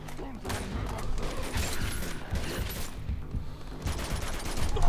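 Rapid gunfire from the video game Uncharted 2: Among Thieves rattles in dense, continuous bursts of overlapping shots with mechanical clatter, loud and close throughout.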